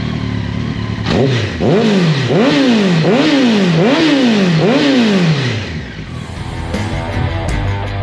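A Honda X-11 motorcycle engine with a newly installed exhaust is revved about five times in a steady rhythm, each blip rising and falling loud and close, before settling back to a rough idle.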